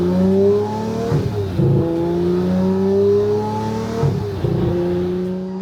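A Lamborghini Murcielago engine hums loud and close as the clutch engages, its tone rising in smooth sweeps, with two brief dips and shuffles where the revs settle before climbing again.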